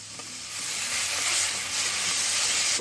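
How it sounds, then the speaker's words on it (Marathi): Finely chopped onion sizzles in hot oil with green chilli in a pan for paneer butter masala, a steady, loud hiss that builds after an initial clatter and continues evenly throughout. "कांदा मस्तपैकी फ्राय होऊ द्यायचा आहे, जरा लालसर होईपर्यंत परतायचा आहे."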